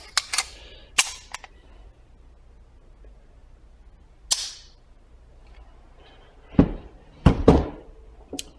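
Sharp single gunshots from a Browning Buckmark .22 pistol crack out in irregular bursts, a pair at the start, then isolated shots and a quick cluster near the end, fairly close with quiet gaps between.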